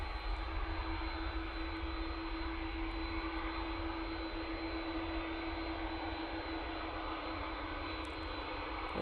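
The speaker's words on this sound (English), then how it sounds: "There's that beautiful EasyJet departing." An EasyJet airliner departs Manchester Airport, its engines producing a constant, strong roar with a steady hum that stays even across the whole stretch, with no voices over it.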